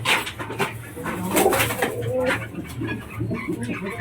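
A Lotan pigeon coos close by in soft, repeated throaty calls over faint background noise.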